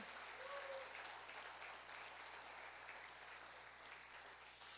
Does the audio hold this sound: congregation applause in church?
yes